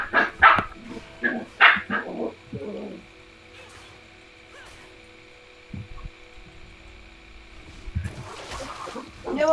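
A toy-like cartoon dog in a League of Legends match gives a cluster of short, squeaky yaps at the start, followed by quieter game hum and a further burst of game noise near the end.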